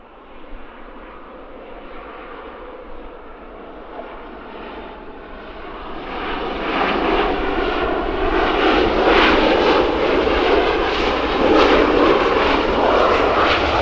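Airplane jet engines roar on runway 22 at London Stansted Airport, a steady broadband rumble that swells louder midway and stays strong and continuous, heard without voices.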